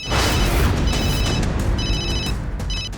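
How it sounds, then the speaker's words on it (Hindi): A phone rings with an incoming call in four repeated electronic bursts, each a bright, beeping tone. The rings sit over a loud, dense dramatic music bed. "फोन पर एक कॉल आ रही है"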